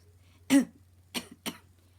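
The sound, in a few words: narrator imitating a nervous cough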